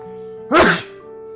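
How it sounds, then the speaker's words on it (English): A single sharp, wet human sneeze bursts out close and loud over a steady electronic hum, then fades quickly. "I have to sneeze."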